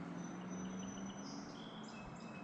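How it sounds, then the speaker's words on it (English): Faint, scattered bird chirps over a steady low hum of distant highway traffic, with a few thin high tweets drifting in and out. "Lots of birds."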